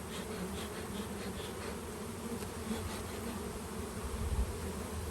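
Package of honey bees swarming in a frenzy, a dense continuous buzz close by that holds steady throughout with no voices.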